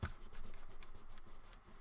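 A folded paper envelope is rubbed down firmly by hand in quick repeated strokes, a close, soft rasping swish that keeps a steady back-and-forth rhythm.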